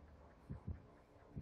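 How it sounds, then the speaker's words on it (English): A killer's heartbeat in the horror game Dead by Daylight pulses low and muffled, three heavy thumps spaced about half a second to a second apart under a quiet hum. "Hear his heartbeat."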